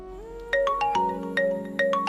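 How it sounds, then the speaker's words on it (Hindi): A phone ringtone plays a short, bright electronic melody of repeating beeping notes, close and clear, with no voices. "ज्योति का फोन आ गया।"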